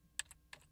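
A few quick taps on a computer keyboard, two close clicks followed by another pair, soft and dry in an otherwise quiet room.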